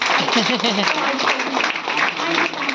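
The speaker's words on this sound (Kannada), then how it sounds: "ಎಲ್ಲರಿಗೂ ಜೋರಾದ ಚಪ್ಪಾಳೆ." An audience applauds at a Women's Day celebration with a chief guest: dense, steady clapping across the whole moment, with a voice audible over it.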